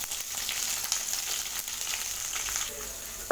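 Shallots frying in hot oil with mustard seeds, fenugreek, curry leaves and dried red chillies for a bitter gourd kulambu give a steady, close, bright sizzle that runs unbroken throughout.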